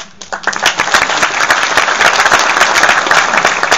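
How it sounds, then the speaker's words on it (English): Loud, sustained applause from a large crowd welcoming new Irish citizens at a citizenship ceremony, dense clapping with many sharp individual claps, close and continuous throughout. "I think your presence here today deserves and deserved that round of applause."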